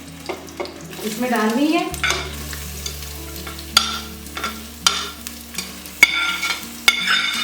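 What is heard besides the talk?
onions frying in oil in a pressure cooker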